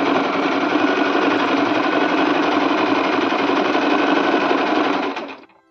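A sewing machine stitches a soft quilted winter baby blanket in one loud, steady, rapid run of several seconds that ends abruptly as the machine stops. No one speaks.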